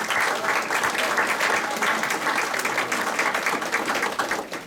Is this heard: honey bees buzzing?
no